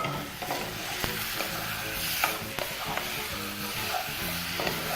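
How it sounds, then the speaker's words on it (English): Charred tomatoes stirred into onions and garlic in a pot, a close, steady sizzle with repeated scraping and knocking strokes of a spoon against the pot throughout, no voices. "So we're going to stir this generously"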